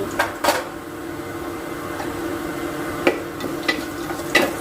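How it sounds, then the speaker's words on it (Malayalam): Half a teaspoon of cumin seeds dropped into hot oil for a curry, giving a soft steady sizzle with a few clinks and stirring taps from a pan, close by and with no talk. "ഞാനൊരു അര ടീസ്പൂൺ ജീരകം ഇടുന്നുണ്ട് കേട്ടോ."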